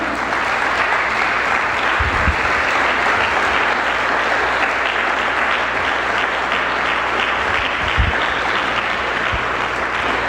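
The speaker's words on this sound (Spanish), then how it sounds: "Dile un aplauso al Señor para que no se me duerma." A church congregation applauds for the Lord in a sustained, loud, dense clapping that holds steady throughout, with a few low thumps mixed in.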